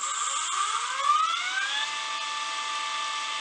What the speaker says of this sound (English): it's really a quiet motor too